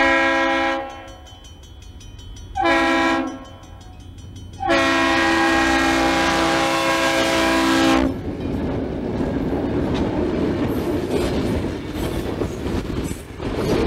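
A freight train passes at Maribel, Wisconsin in 1988, its horn sounding in several long blasts before the rumbling, clattering cars roll steadily by up close.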